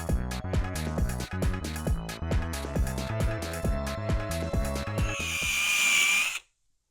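Power drill spinning a lubricated foam pad to polish a headlight lens, a steady whirring motor pulsing in regular bursts, then rising to a higher pitched whine before stopping abruptly.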